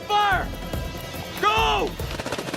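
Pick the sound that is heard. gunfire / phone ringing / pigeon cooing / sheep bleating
gunfire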